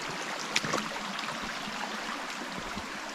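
Water from a low-pressure micro hydro penstock line flows steadily into a sink, a continuous hissing, gurgling rush with a brief splash early on.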